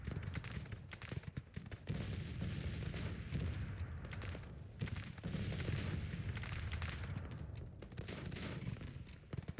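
Cannon artillery fire in the Civil War strategy video game Grand Tactician booms and crackles in repeated ragged volleys, with distant battle rumble filling the gaps.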